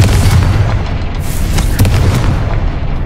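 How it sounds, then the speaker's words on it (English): A Confringo fire spell explodes in the video game Hogwarts Legacy, a loud, booming blast with a heavy low rumble that carries on through a few seconds of crackling burst sounds. "Confringo 下去，不要怕。"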